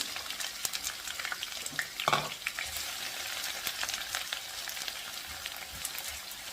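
Chopped garlic and onion fry in a pan with a steady close sizzle, broken by a few utensil stirs and a brief louder scrape near the two-second mark; no one speaks.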